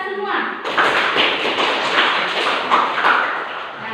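A school class claps together in a dense burst of many hands that stays loud for several seconds, with scattered voices underneath.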